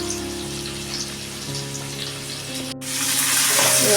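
Onions and bay leaves frying in a pan, a soft sizzle under a background hum that suddenly swells into a louder, crackling sizzle near the end as the onions hit the hot oil.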